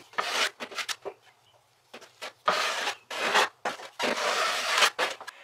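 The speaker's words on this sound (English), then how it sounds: "So now I'll go ahead and start skim coating and get this thing going." A trowel or knife scrapes and smears joint compound across a wall during skim coating, close rasping strokes in uneven bursts with short pauses between passes.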